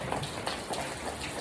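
Water pattering and splashing steadily onto a house during a rainy New Year's night, a soft continuous wash of drips with no voices.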